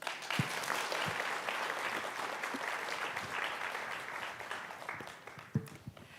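A conference audience at a cartel workshop in Seoul applauds the panelists and moderator: steady, dense clapping from a large room that holds for about six seconds, with a few sharper claps standing out near the end.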